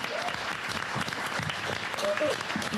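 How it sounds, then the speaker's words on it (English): Audience applause at a New Hampshire Democratic primary candidate forum: steady, dense clapping from a crowd fills the whole stretch, with a voice speaking over it. "Can we get another round of applause?"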